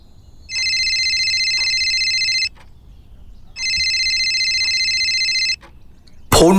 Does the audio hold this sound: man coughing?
no